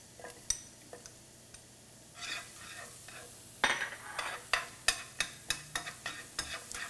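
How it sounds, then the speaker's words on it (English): Garlic and shallots fry in a pan for Penang curry, giving a close, steady sizzle, with stirring scrapes and a run of regular utensil clinks against the pan. "And then next goes the shallots"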